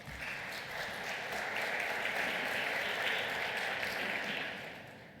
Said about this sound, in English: And please give them a warm applause.